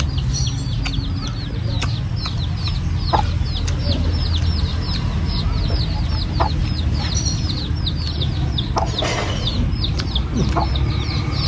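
A flock of chickens clucking steadily throughout, with repeated short calls over a constant rumbling background noise.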